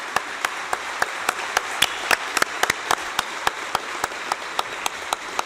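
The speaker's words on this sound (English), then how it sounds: "let's give a round of applause" Steady applause from a large audience at an official opening plenary session, sustained and even, with a few sharper individual claps standing out nearby.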